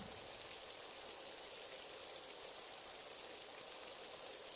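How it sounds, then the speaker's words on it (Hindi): Rain as a sound effect in a narrated story: a steady, even hiss of falling rain, soft and continuous with no voices over it. "अब ये बारिश भी शुरू हो गई।"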